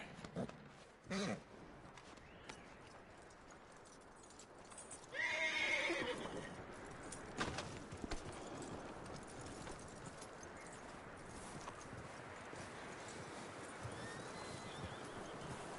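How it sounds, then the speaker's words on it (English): A horse neighs loudly around the middle, with hooves clip-clopping nearby, over a steady outdoor background and scattered knocks. "That looks like a decent horse."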